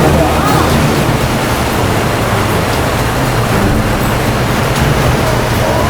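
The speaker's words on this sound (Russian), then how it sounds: "Это грот. Слышите, как шумит море?" Loud, continuous roar of sea waves surging in a rocky sea grotto at Vityaz Bay, Primorsky Krai, a thick wash of noise without letup.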